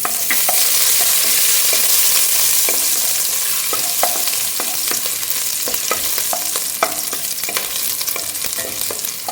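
Ginger and garlic fry in a pan while being stirred, producing a constant loud sizzle punctuated by repeated spoon scrapes and taps, close up with no voices.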